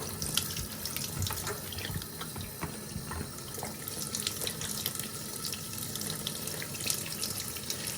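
Water from a paint sprayer being flushed out runs steadily into a kitchen sink, a continuous splashing hiss with faint drips, no talking.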